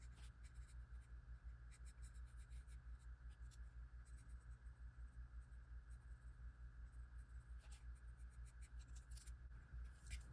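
A pencil scratches across paper in quick irregular strokes, quiet and close, with brief pauses between bursts of writing.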